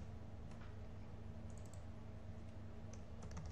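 Typing on a computer keyboard while writing Android code for a calculator app, quiet soft clicks at an irregular pace over steady low room hum, with a few sharper taps near the end.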